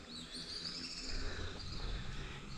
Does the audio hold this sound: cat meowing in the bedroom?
no